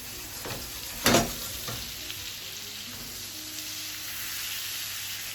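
Food browning in a frying pan with black pepper and sea salt, a steady soft sizzle running throughout with one brief louder crackle early on.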